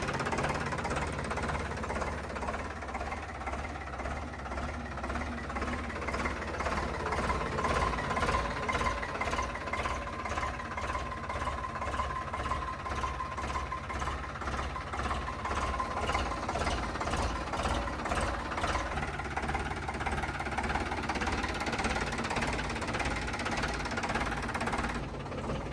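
A 2023 Sonalika Tiger GT26 tractor engine runs steadily nearby, with a continuous rhythmic diesel chugging and knocking that holds at an even level throughout.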